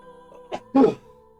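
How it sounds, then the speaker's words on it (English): A single person sneezes indoors, a short in-breath followed by a sharp, louder burst, over a faint steady background hum. "I gotta sneeze, 1 sec."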